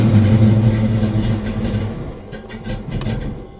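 A Ford Foxbody Mustang engine runs loudly at close range with a steady low rumble that eases off toward the end, where some lighter clicks and rattles are also heard; no voices.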